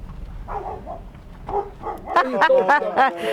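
A dog at a rural property with trulli in Puglia, Italy, gives several sharp, close barks in quick succession near the end, after a person talks at the start.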